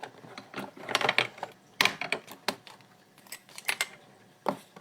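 Scissors snip off part of a craft stamp for a mistletoe-branch project, a series of crisp, close cuts in uneven bursts, with no one talking.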